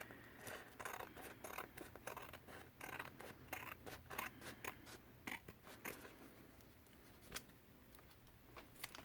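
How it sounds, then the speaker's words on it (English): Scissors snip through a paper stencil reinforced with masking tape, a quick run of crisp, close cuts with short pauses between bursts and no talking over them. "So cut where you had the edge of the paper."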